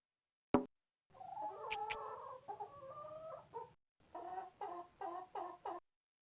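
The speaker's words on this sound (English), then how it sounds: "Children like to imitate the sound that roosters make by crowing cock-a-doodle-doo." A rooster in a farm video game crows a long, wavering cock-a-doodle-doo after a sharp click, then repeats several shorter clucking bursts, clear and close with no talking.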